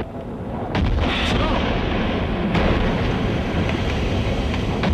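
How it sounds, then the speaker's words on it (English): Dynamite and rocket blasts clearing rocks from a blocked river channel: heavy, booming blasts rumble loudly, with a sharp crack followed by sustained low roaring that rolls on and on. "troops upstream using rockets and dynamite to dislodge rocks which had blocked."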